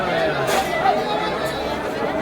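A dense crowd chatters and murmurs at Basukinath temple, a steady, loud hubbub of many overlapping voices close around, with no single voice standing out.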